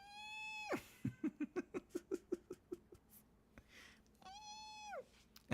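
A pet cat lets out a clear, close meow, then gives a quick run of short rhythmic breathy chirps, and ends with a second drawn-out meow.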